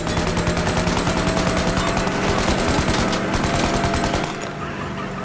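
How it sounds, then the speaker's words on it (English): A golden Tommy gun firing in Mafia Definitive Edition, a loud, rapid rattle of continuous automatic fire lasting about four seconds before dropping off into quieter background noise. "It's a golden Tommy gun?"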